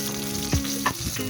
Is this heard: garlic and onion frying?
yes